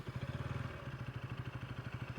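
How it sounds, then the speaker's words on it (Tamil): KTM Duke 160 motorcycle engine settling into a steady idle just after starting, a close, even low-pitched chugging pulse with light mechanical clatter and no talk. "அப்படியே ஸ்மூத்தா வந்து ஐடில் ஆகி ஸ்டார்ட் ஆகுது."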